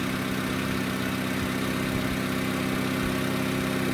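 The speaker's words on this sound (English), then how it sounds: "So we'll go ahead and start the engine up." A car engine runs at a steady idle during a battery and starter test, a continuous even hum with no talk over it.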